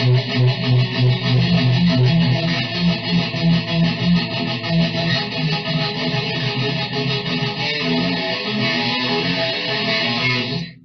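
A distorted guitar plays a slow, steady riff with a low pulsing rhythm, loud and sustained, no talking over it.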